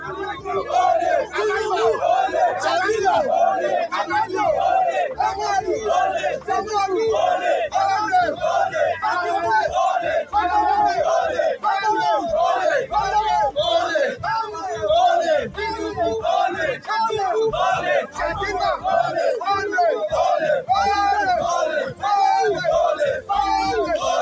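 A large protest crowd in Nigeria shouts and chants in loud rhythmic unison, voices massed and continuous throughout with rising and falling yells.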